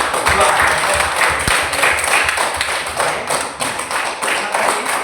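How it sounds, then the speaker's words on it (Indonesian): A classroom full of students claps for a group of classmates after their presentation, a dense, steady patter of many hands lasting throughout with no voices standing out. "Tepuk tangan untuk kelompok 2"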